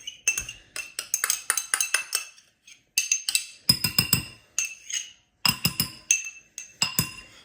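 A spoon clinking against a bowl while garlic is stirred in, bright, rapid metallic-glassy taps in quick bursts separated by short pauses, close and with no one talking.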